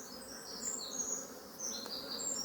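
Honeybees hum softly around an opened hive, a young bee near a drone among them, with a faint continuous buzz and occasional higher flybys over a quiet background.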